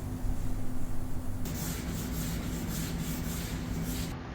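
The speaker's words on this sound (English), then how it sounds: "Now I'm going to sand it with 400 grit wet sandpaper and a block." Close, steady rubbing of 400 grit wet sandpaper on a block over a Suzuki RGV250 motorcycle part, a continuous soft hiss with no clear strokes, under a low background hum.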